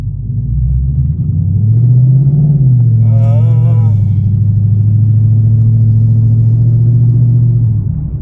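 A base-model Ford Mustang GT with a Wind Booster throttle module, heard from inside while driving: a loud, steady low engine rumble that rises briefly in pitch before settling back to an even cruise.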